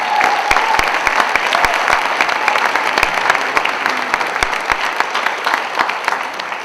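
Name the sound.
audience applause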